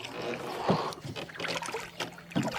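A canoe is paddled on water near an island, with soft splashes and trickles from the strokes, recurring dips of the paddle, and light wind noise.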